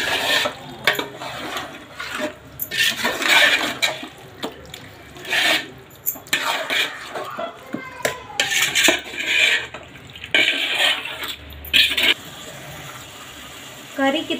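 Chicken curry being mixed in a metal pot, with irregular scraping and clanking of a spoon against the pot coming in close bursts, separated by short quieter gaps, and wet stirring in between.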